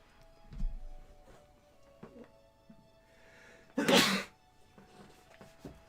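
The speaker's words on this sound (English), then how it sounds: "I keep sneezing." A single loud sneeze bursts out close by amid quiet background noise.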